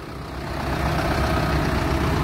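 A Solis Yanmar 5724 diesel tractor engine runs steadily close by, a loud continuous low rumble with even mechanical texture and no talking.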